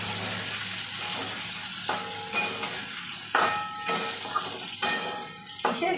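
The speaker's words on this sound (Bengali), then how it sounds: "এবার আমি আলু আর এই কাঁচা লঙ্কা কুচোনোটা ছেড়ে দিচ্ছি। এবার এটা একটু হালকা নেড়ে নেব।" Potatoes and chopped green chillies fry in a pan, a soft steady sizzle punctuated by several sharp metal clinks and scrapes as the spoon stirs them.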